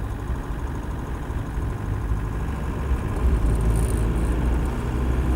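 A Land Rover 90 County Station Wagon with a 200TDi diesel engine pulls away, its low throbbing diesel rumble rising steadily in loudness close by, with no voices.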